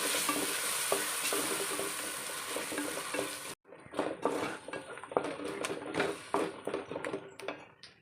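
Curry paste with curry leaves and green chillies frying in a pan, a bright hissing sizzle that cuts out abruptly, followed by quieter clinks and scraping of stirring utensils.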